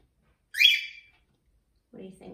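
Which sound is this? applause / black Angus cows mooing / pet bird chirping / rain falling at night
pet bird chirping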